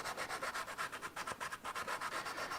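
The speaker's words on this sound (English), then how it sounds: "It's nice to use a sanding block because you can keep it all nice and even." A sanding block is rubbed over the cooling fins of a motorcycle engine in quick, even back-and-forth strokes, a soft scratchy rasping rhythm heard close up and alone.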